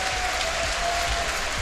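A live crowd at a Dota 2 tournament match between Na'Vi and TongFu roars and applauds in a dense, continuous wash of noise that stays loud and even throughout the short stretch.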